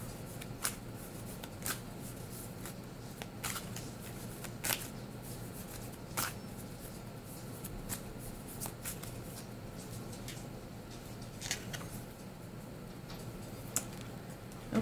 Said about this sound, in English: I'm pulling cards from the Wisdom of the Oracle deck.